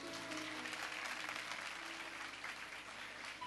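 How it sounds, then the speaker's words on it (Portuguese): An outdoor congregation at a gospel gathering in a town square in São Domingos applauds for Jesus, sustained dense clapping spread wide and fairly distant, steady throughout. "Vamos aplaudir o Senhor Jesus,"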